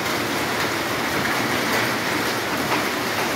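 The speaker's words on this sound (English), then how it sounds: "So this is Hailstorm." Hail pours down noisily in Solan in a dense, continuous roar of pelting ice, loud and close with no letup.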